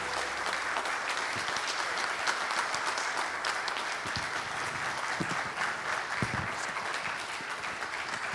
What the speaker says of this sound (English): Can we have a loud round of applause for the super flexible yoginis